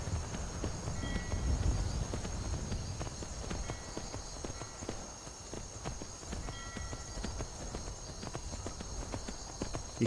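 Rhythmic clip-clop of horse hooves striking hard dockside stairs in Skyrim, a steady plodding gait, mid-distance, over a faint constant background hum.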